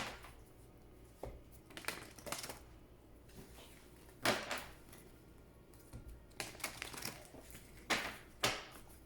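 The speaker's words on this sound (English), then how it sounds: "Please think of your question as I shuffle the cards." Oracle cards being shuffled by hand, a run of soft papery riffles and taps coming in irregular bursts, close and fairly quiet with no talking over them.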